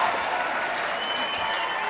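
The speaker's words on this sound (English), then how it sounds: "I would like more applause than Mark" A live audience at a comedy mic competition applauds steadily and loudly for the whole stretch, a dense even wash of many hands clapping without pause.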